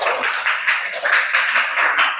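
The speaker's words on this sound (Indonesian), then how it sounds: "Tepuk tangan" Classroom applause for a student group returning to their seats during a Qur'an recitation lesson on waqf and washol: dense, steady clapping from a roomful of people, continuous and fairly loud with no talk over it.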